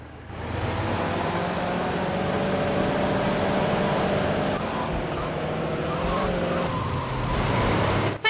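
Car driven fast in the game GTA Liberty City Stories, a steady loud engine roar with slight pitch shifts, continuous for several seconds before cutting off.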